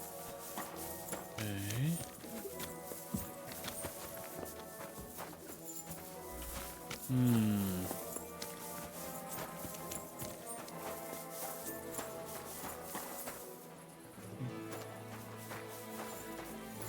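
Hooves clip-clop steadily at a walking pace in the game Kingdom Come Deliverance 2, fairly quiet and continuous, with a voice speaking briefly over the footsteps.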